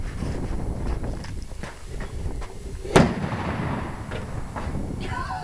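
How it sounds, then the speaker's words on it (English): A single sharp, loud explosion of a homemade sparkler bomb cracks out midway through a steady outdoor rumble of background noise and wind. "Dang! That sounded like a real explosion."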